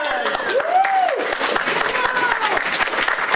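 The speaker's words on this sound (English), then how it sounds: "Give yourself a round of applause." Applause from a full house at a county candidate forum hosted by a county employees association, a steady wash of clapping throughout with a voice speaking over it partway.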